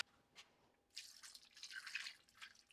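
Extra water being poured into a pot of beef stew in a home kitchen, heard as a quiet, bubbly splashing stream that swells partway through, with no talking.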